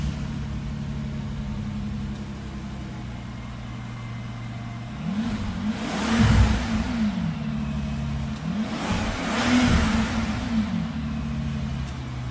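A 2010 Bentley Continental with a twin-turbo 6-liter W12 revs hard twice, each time rising and falling over a steady idle. Both revs are loud and close, and there is no talking.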